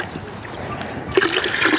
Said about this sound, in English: So what I'm going to do is I'm going to put in 3 liters of water.